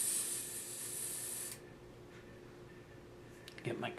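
Creamy orange paint sprayed through a sprayer, a bright steady hiss for over a second that cuts off, followed by quiet with a few faint clicks and handling noises.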